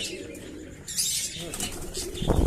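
A pigeon beats its wings in a flurry as it is let out of a loft, the flapping close and fairly loud in short bursts, with a few faint coos and chirps nearby.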